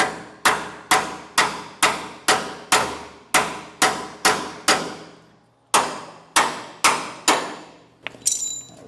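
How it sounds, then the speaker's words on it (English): Hammer driving a punch to knock a shackle bolt out of a utility trailer: about fifteen loud, ringing metal strikes in a steady rhythm, one pause partway, then a final clatter, close up with no talking. "that's where you could either use another bolt or, in most cases, I'll usually use a punch"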